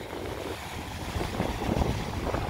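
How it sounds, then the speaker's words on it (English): Waves breaking on the cold, windy Lake Superior shore in winter, a steady broadband wash of surf with gusting wind buffeting the microphone, swelling louder toward the end, no talking. "We got some pretty good wave action going."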